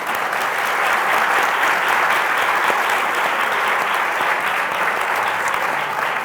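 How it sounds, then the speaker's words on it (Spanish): Audience at a book presentation breaks into sustained, steady applause, loud and continuous throughout with no voices standing out. "Si quieres te damos el aplauso y así te animas."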